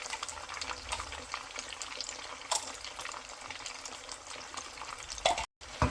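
Chicken pieces fry in moderately hot oil in a karahi pan, a soft continuous sizzle with stirring scrapes and occasional clatters, fairly quiet and close, with no voices.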